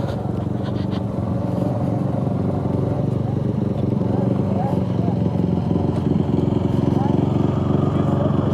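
A Honda CT125 motorcycle thrashed through mud, its engine droning and revving steadily up close for the whole stretch while someone talks over it.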